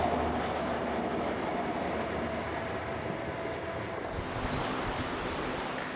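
A train rumbles steadily past near a station and viaduct, a broad continuous roar with a shift in tone toward the end as it moves by, fairly close and loud with no voices.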